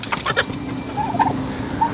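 Turkeys gobble in short, rough bursts from a backyard flock, several calls rising and falling across two seconds at moderate loudness with a steady background hum and no talking.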